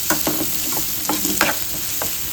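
Onions fry in a pan for pav bhaji, giving a loud, continuous sizzle broken by a run of quick scraping stirs from a spoon, close up and with no talking.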